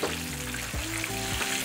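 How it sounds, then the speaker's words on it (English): Chicken pieces frying in hot oil, a dense continuous sizzle and crackle with occasional shifts as the pieces are moved around, close up and without talk. "This is the best part of frying chicken, is just if you move them around a lot"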